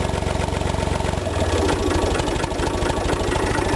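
A 1986 Long 360 tractor engine idles soon after a cold start, chugging with a steady, rapid, slightly knocking rhythm that shifts pitch briefly, loud and close.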